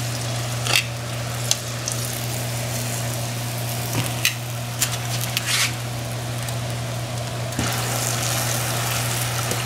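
Bowfin fillets fry in oil that is too hot, giving a steady close sizzle with scattered pops and crackles and a low hum running underneath throughout.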